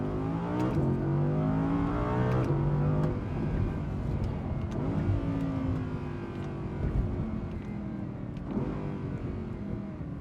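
A 2018 Audi R8 RWS with a naturally aspirated 5.2-litre V10 revs hard on open road through rising gear pulls, with a loud, rasping tone that climbs in pitch, drops at each shift, then climbs again.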